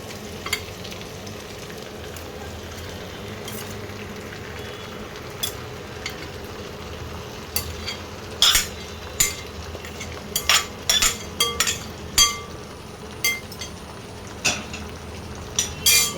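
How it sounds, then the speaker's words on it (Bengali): Chicken pieces go into a pan of frying onions and capsicum, with a soft steady sizzle and a string of sharp metal clinks and scrapes from a spatula against the pan, growing busier toward the end. "এবার আস্তে আস্তে আমি মাংসটা দিয়ে দিচ্ছি।"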